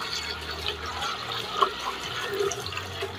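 Water poured steadily into an upturned umbrella, a continuous close splashing and trickling fill lasting several seconds with no talk over it.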